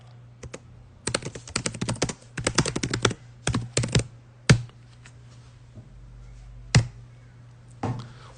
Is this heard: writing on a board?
yes